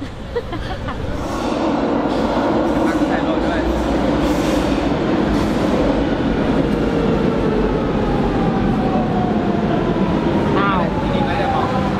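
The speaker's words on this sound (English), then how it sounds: "We just got off the metro at Cabo Ruivo, and this is the closest metro station to the Lisbon Aquarium" A Lisbon metro train arriving at Cabo Ruivo station rumbles in loudly and steadily, with squealing wheels and rising whines over a constant underground din.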